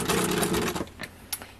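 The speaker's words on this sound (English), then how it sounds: "I just start sewing, and it's taking really big stitches, really long length" A sewing machine runs long gathering stitches along a fabric edge, a steady close whir for most of a second before stopping, followed by a few small clicks and handling taps.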